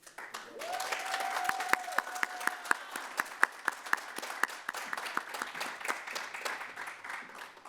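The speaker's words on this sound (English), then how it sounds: "Let's give a round of applause for our Specialist in Education graduates and degree candidates." Applause for Specialist in Education graduates at a fall commencement and hooding ceremony, a steady crowd clapping with sharp individual claps standing out near the microphone and a brief tonal whistle or hum early on.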